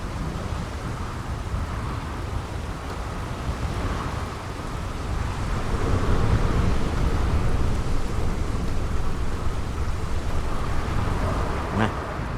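Steady rain pouring in the sci-fi video game Starfield, a continuous wash of patter with a low rumble of thunder swelling midway, no voices.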